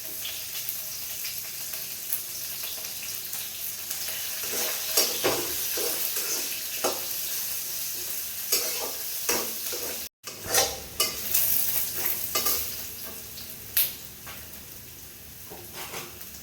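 Chilies and onions fry in hot oil in a small room kitchen, a soft steady sizzle with stirring clatters and utensil knocks, a brief dropout midway followed by louder bursts of frying.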